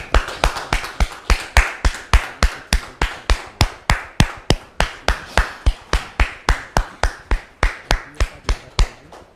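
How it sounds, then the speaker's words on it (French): An audience welcomes a guest onto a talk show stage with loud, steady clapping in unison, about three sharp claps per second. The claps stay even and close throughout, with no voices. "Merci de le recevoir sous vos applaudissements"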